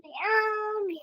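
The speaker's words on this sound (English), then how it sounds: "Sorry about the cat." A single domestic cat's meow, clear and close, drawn out for about a second with a rising then falling tone, heard alone without any talk.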